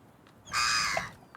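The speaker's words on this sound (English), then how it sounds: "Oh, it's a bird." A single harsh, raspy bird call lasts about half a second, rising loud and close out of quiet surroundings before fading.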